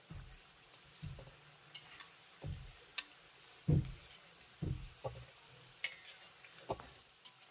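Cauliflower pakoras fry quietly in oil while being gently turned, a faint low sizzle punctuated by soft, irregular stirring clicks and bumps of a utensil against the pan.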